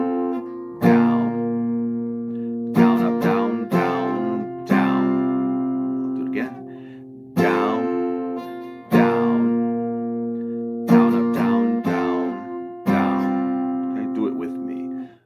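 Guitar chords are strummed in a steady sequence, each struck chord ringing out and fading before the next, played close and clear.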